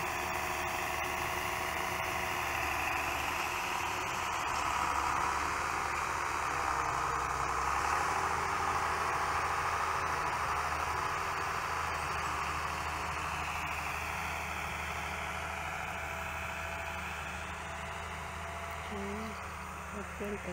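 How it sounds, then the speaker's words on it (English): A tractor engine runs steadily while a rice field is plowed for replanting in the Philippines, giving a continuous, even mechanical drone with little change over about twenty seconds. "Guys, that's the tractor."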